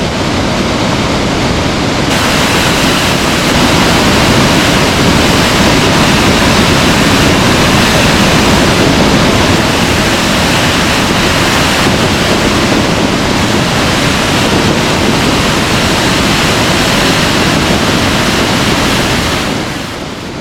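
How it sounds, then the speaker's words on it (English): A small waterfall in Iceland, with wind blowing its spray everywhere, gives a loud, steady roar of rushing water mixed with wind buffeting that lasts the whole time without a break. "This is not a large waterfall, but the wind is spraying the water everywhere."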